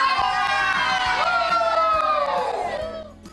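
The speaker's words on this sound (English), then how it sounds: "you get to lead the entire team in yelling out some sort of cheer to let the warehouse crew know that you've finished a box" A team of packers in a warehouse yells a loud group cheer together, voices rising and swelling for about three seconds before trailing off, close and energetic.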